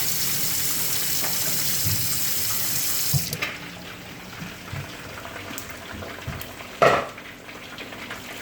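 Rice is rinsed under a running kitchen tap, a steady close rush of water into the sink that breaks off partway, followed by a few knocks and sloshes of the pot.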